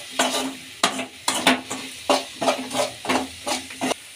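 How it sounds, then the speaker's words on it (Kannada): A spoon stirs spices and salt into a potato mixture in a pan for aloo katli. The stirring comes as about nine rhythmic scraping strokes close by, over a light sizzle. "ಈಗ ಚೆನ್ನಾಗಿ ಮಿಕ್ಸ್ ಮಾಡ್ಕೊಳ್ಳೋಣ."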